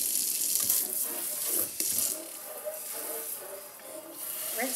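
A kitchen sink faucet runs steadily, water splashing down into the drain to rinse a garbage disposal, a close, continuous hissing stream with no talking.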